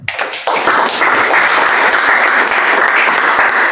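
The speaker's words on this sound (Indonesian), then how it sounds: "Tepuk tangan buat Tuhan." A church congregation at a GPI Grand Wisata Sunday service breaks into loud, dense clapping that starts abruptly and holds steady, with no voices over it.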